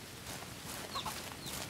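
Chickens cluck in the farming video game Ranch Simulator, with a couple of soft, brief clucks set against a faint, busy ambient background.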